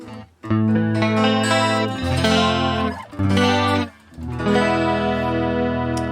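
An electric guitar played through a Neural DSP Quad Cortex plays sustained chords with a shimmering chorus effect, notes ringing out and overlapping with brief gaps between phrases.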